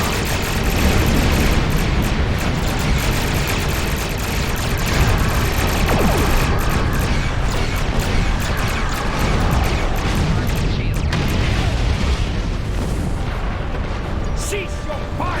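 Starship weapons fire and explosions during a Star Trek Online space battle, a dense continuous roar of blasts, booms and energy fire that stays loud and close throughout, with no clear speech on top.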